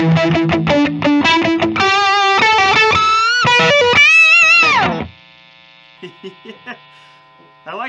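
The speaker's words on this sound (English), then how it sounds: "Now let's try it with the coil split." A 1985 Fender Performer electric guitar with its pickup coil-split plays heavily distorted riffs with bends through an amp, then stops, leaving a steady buzzing amp hum and a few quiet plucked notes.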